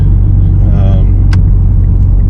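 A car engine idles steadily once warmed up, a loud, constant low rumble heard from inside the car, with a brief click and a faint voice in the background.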